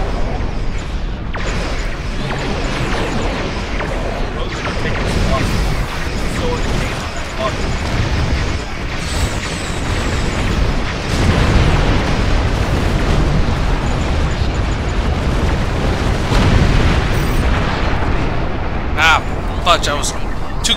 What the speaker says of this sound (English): I was too close to some explosions.